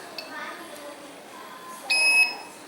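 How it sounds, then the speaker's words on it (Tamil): A multimeter continuity tester beeps while probing a mobile phone capacitor: one short, high, clean electronic tone near the end over faint room noise and quiet talk. "2 எட்ஜில் வைக்கும்போது பீப் அடிக்கணும்"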